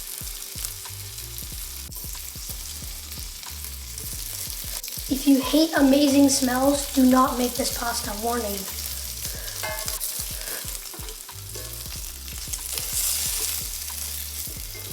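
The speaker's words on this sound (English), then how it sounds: "Listen to that beautiful sizzle." Guanciale frying in a pan for classic carbonara, a steady low crackling sizzle with occasional spatula scrapes and a voice speaking over it midway.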